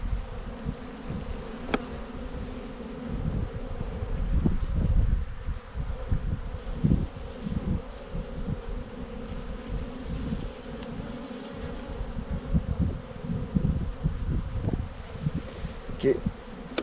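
Honeybees hum steadily and densely around an opened beehive during a late-summer hive inspection. The buzz is close and continuous and is heard alone, with faint handling noises.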